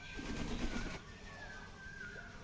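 Pigeons feeding outdoors give soft cooing calls over a faint, busy background, fairly close but quiet, with no speech.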